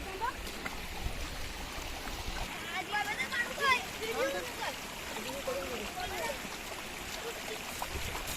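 A vehicle is washed down with soap and water before farm work. Water splashes and trickles steadily over it throughout, fairly close, with a few faint chirping sounds in the background.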